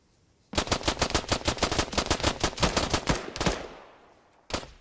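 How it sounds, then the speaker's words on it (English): Automatic gunfire in Arma 3 rips out in a rapid, loud, close burst of about twenty shots lasting roughly three seconds, dying into a fading echo before one last shot. "Pull your gun out and shoot me right now."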